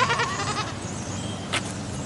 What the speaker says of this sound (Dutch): En geitjes.